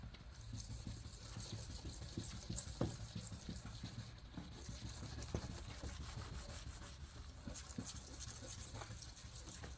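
Steady, continuous scratchy rubbing of 1000 grit sandpaper on a plastic headlight lens, close and even in rhythm for the whole stretch, with no talking.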